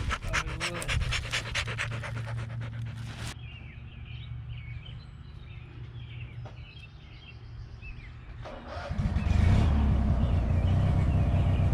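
A dog pants rapidly and steadily nearby in a machine shop with a surface grinder, the quick breaths continuing for several seconds before a louder rumbling noise takes over.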